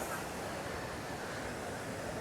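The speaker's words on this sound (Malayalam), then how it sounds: "ഏകദേശം ഇരുപത്തഞ്ച് മീറ്റർ ഉയരത്തിൽ നിന്നാണ് ഈ വെള്ളം വീഴുന്നതെന്നും അറിയാം" Athirapilly waterfall in Kerala, its water dropping about twenty-five metres, heard as a dense, constant roar of rushing water, loud and unbroken throughout with a wind-like hiss and no distinct events.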